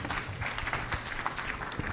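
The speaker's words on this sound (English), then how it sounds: "Let's add another round of applause to him, please." Audience applause at a live pharmaceutical industry investment forum in Tanzania, a dense, continuous patter of many hands clapping at moderate distance for a brief moment.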